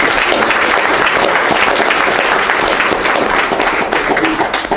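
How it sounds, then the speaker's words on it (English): Audience at a 2022 crypto conference in Adelaide breaks into a steady, dense round of applause, loud and close, with many hands clapping continuously throughout. "just give another round of applause for Jason."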